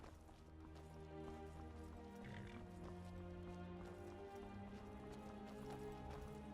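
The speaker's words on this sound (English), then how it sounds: "And the horse went and attacked." Steady clip-clop of horse hooves with a brief whinny in Skyrim Special Edition, set against a continuous layered musical background with rich tonal texture throughout.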